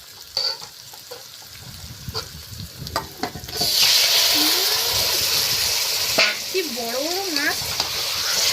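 Lote fish, Bombay duck, drops into a hot pan and starts frying, an abrupt loud sizzle that swells and holds steady, with stirring clatter and someone talking over it.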